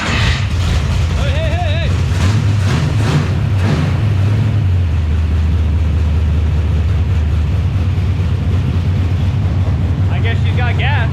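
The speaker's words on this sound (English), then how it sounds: "let's see if she'll fire up" The Double Trouble engine fires up and settles into a loud, steady rumbling idle that fills the whole stretch, with a shouted voice briefly cutting in over the noise near the start.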